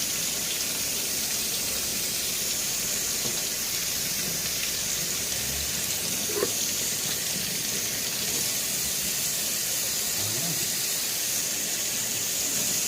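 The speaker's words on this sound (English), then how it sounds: "Alright, so let's get the cold water under it." Cold tap water runs in a steady, even hiss over a vinyl T-800 skull kit part, a constant wash of flow with no voices.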